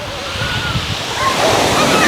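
Ocean waves break on an Albanian beach, a steady broad wash of surf that swells louder toward the end, with some wind buffeting the microphone.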